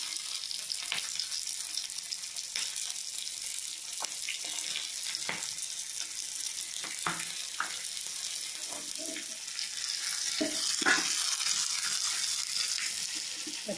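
Green chillies sautéing in oil in a pan for a cauliflower dish, a faint steady sizzle punctuated by scattered spatula taps and clicks, swelling a little louder near the end.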